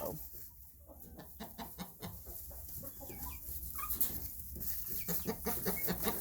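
Chickens cluck softly and repeatedly in a quiet barn or yard, with short, uneven calls scattered throughout.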